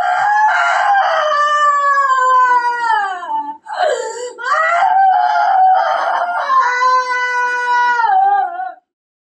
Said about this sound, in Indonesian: Itu teriak-teriak ini videonya ketika beliau lagi kesakitan